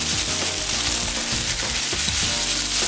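Tarako spaghetti mix sizzles loudly and continuously in a hot pan, a dense close frying hiss with occasional scraping from stirring and no voices.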